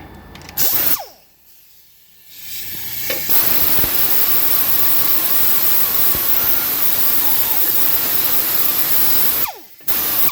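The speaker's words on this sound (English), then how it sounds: "if you're fortunate enough to have a die grinder and a cookie pad" A die grinder fitted with a cookie pad cleans an ABS sensor mount, running at a loud, steady high-pitched whir after a couple of short bursts and brief stops near the start and end.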